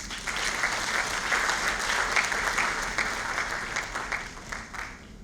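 Audience applauding at the opening ceremony of a lawyers' congress, a dense, steady wash of clapping from a large crowd that holds loud and even before tapering slightly at the end.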